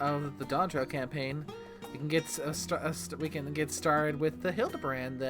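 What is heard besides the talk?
No distinct noise like a dog, phone or traffic.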